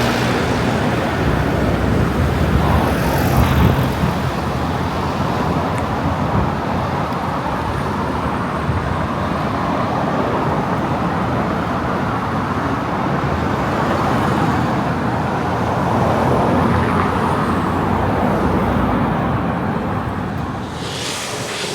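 Steady roar of freeway traffic in Kuala Lumpur, heard from a bicycle riding along with the cars, a continuous broadband rush with gusty wind noise and no let-up, loud and close throughout.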